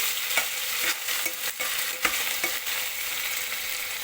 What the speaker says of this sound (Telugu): బాగా దోరగా వేయించుకోవాలి ఆయిల్లో